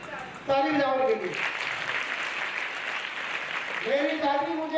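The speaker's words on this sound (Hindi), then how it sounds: "ताली बजाओ के लिए।" Broadband applause from an audience at a Hindi motivational talk, swelling for a few seconds between stretches of speech, with a voice heard at the start and again at the end.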